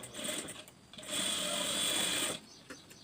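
A sewing machine stitches 1.5-inch tucks into a blouse, a brief start then a steady close whirring run of about a second and a half, with quiet stops on either side.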